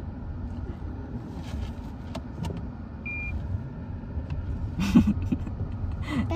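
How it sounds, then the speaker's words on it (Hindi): Car reversing at a river crossing, its engine idling in a low steady rumble with a few clunks and a louder burst near the end, heard close and alone without talk. "गाइस देखो रिवर्स आ गई गाड़ी।"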